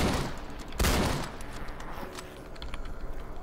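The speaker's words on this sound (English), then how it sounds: "that's a loud gun" Loud gunfire rings out in the survival video game I Shall Remain, a sharp blast followed by a rattling volley of rapid shots, close and dominant with no talk.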